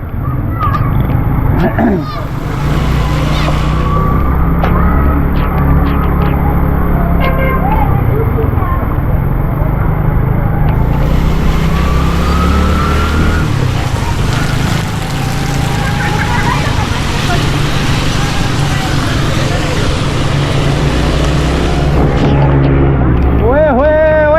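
A motorcycle engine runs steadily and loudly throughout, a continuous low drone with rumble, while people talk over it.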